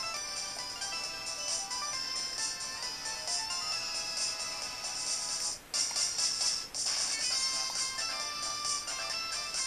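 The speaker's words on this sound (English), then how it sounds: "I was looking at my phone. A stupid text." A phone ringtone from the video game Project X Zone plays as a steady, bright electronic melody for nearly ten seconds, briefly cutting out twice, with no voices.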